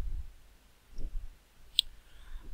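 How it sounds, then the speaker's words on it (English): A single sharp computer mouse click sounds close and clear in an otherwise quiet room, with a few soft low bumps around it. "Let's click."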